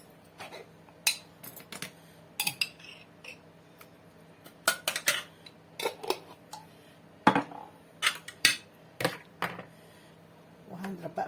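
A utensil knocks and scrapes against a bowl while sauce and other ingredients for grilled chicken skewers are stirred together, irregular clinks and taps with short pauses, close and fairly quiet.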